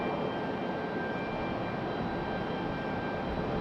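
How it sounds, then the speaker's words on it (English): Airbus A319 jet airliner on pushback at Raleigh-Durham International Airport, a steady, even roar of idling engines holding constant throughout with a thin whine above, moderately distant and alone. "so now we've got the other A319 on pushback"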